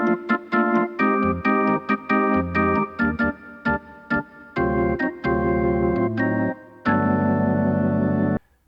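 A Yamaha PSR-E373 organ voice with tremolo and overdrive plays a rhythmic run of gritty, choppy chords and bass notes. It ends on a long wavering held chord, with no talking.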